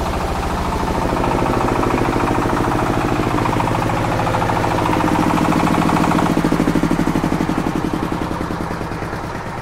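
MAKTANI MT212 rice huller engine running steadily, a loud, close, continuous rhythmic mechanical chugging drone that swells slightly and then pulses more distinctly toward the end.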